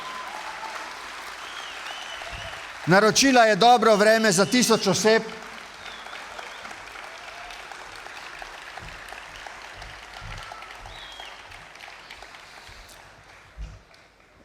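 Audience applause at a youth festival bursts out loudly for about two seconds, then gives way to a speaker addressing the crowd in a large space.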